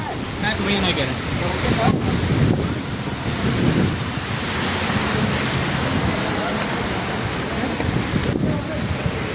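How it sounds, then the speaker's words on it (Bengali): Strong wind gusts drive heavy rain at night, a loud roaring rush that buffets the microphone in waves, with someone speaking over the storm. "অনেক বাতাস বইতেছে, অনেক বৃষ্টি হচ্ছে।"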